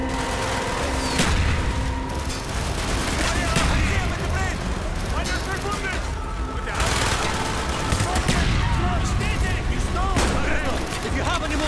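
Mortar and rifle fire thunder through a Call of Duty: Black Ops battle, a dense barrage of booms and rattling gunfire with shouted voices layered on top, loud and continuous throughout.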